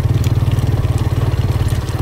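A motorcycle rides over a rocky mountain track toward Fairy Meadows near Nanga Parbat, its engine chugging in a steady, close, throbbing rhythm with no talk.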